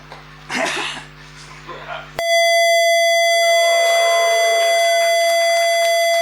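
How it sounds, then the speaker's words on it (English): A ZX Spectrum's 1-bit speaker emits a steady 668 Hz tone, loud and unbroken after a sudden start, following someone talking over some background noise. "we get a beautiful 668 hertz tone"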